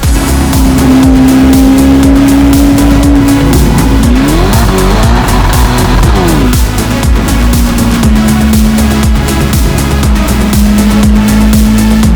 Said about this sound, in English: that gorgeous V8 soundtrack popping through our Novitec exhaust system